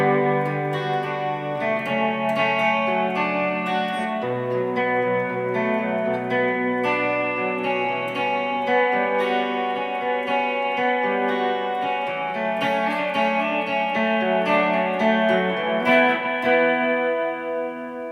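Guitar part of a song, played through an effects unit with chorus and slight distortion: a steady, ringing stream of arpeggiated chords, full and continuous at an even loudness with no voices.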